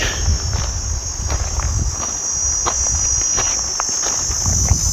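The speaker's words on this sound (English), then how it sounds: "The crickets are in full voice." Crickets chirp in full chorus in the Biedouw Valley, a loud, steady, shrill trill that runs unbroken throughout, with faint rustles and soft footsteps beneath it.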